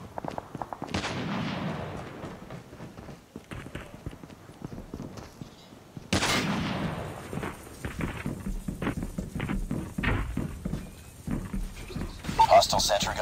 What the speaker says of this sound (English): Hostile sentry gun in your AO.